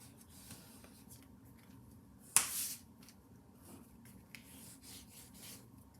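A bone folder burnishes paper for a Graphic 45 mini album, giving soft close rubbing and scraping strokes, with one sharper scrape standing out midway, faint and without talk.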